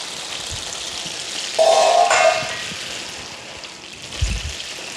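Chicken tsukune skewers cooking in a pan with a little glaze added, a soft background sizzle with a brief brighter hissing burst from the liquid hitting the hot pan, plus a couple of low clunks.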